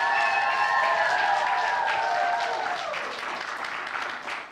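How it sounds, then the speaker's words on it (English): Loud applause and some cheering from a school audience at a junior house music event, honoring the theatre tech team; clapping holds strong then fades slightly toward the end. "Go on, bigger applause than that,"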